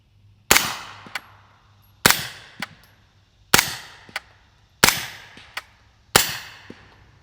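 Five muffled gunshots from a GHM9C 9mm pistol with an AB Suppressors F4 suppressor, firing 147-grain rounds at a slow steady pace, each a sharp pop followed by a quick metallic clink and brief echo.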